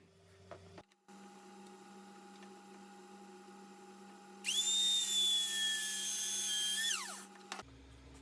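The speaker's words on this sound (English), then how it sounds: "I'll put the dowel machine on those marks and drill the holes for the dowels." A handheld dowel machine drills dowel holes in wood for a dog gate, a loud high motor whine that rises for about three seconds and then winds down, over a steady low machine hum.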